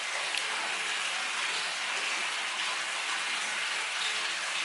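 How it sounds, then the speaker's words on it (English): Water runs steadily from a fountain along a trail, a continuous, fairly close hiss and splash with no breaks and no voices. "This is the first running water since this morning"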